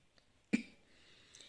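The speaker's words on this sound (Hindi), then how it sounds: "थोड़ी सी खांसी आ गई मेरे को" A single short cough from a woman reciting the Ramayana in the early morning, sharp and close, followed by near silence.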